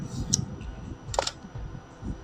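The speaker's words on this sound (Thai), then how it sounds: "มันเป็นการล็อกปุ่มชัตเตอร์ เราก็ต้องหมุนตามเข็มทวนลงไปก่อนแล้วก็กด" Pentacon Six TL medium-format film camera firing its shutter release, a pair of short mechanical clicks a second apart, close and crisp over faint background hiss.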